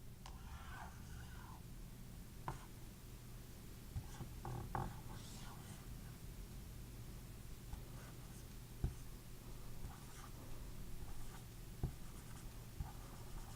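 A pen scratches and taps quietly on paper while a diagram of an air compressor is drawn, with faint strokes and small clicks over a low background hum.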